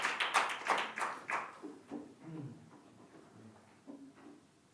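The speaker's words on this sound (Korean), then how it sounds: "그렇게 하시는 우리 주님께 모두 영광의 박수 올려드릴까요?" Scattered hand claps from a church congregation at a Friday night worship service, a burst of loud claps at first that thins to softer sporadic claps and faint low murmuring as it tapers off.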